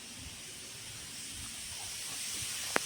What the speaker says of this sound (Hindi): मेरे कुकर में सीटी लग रही है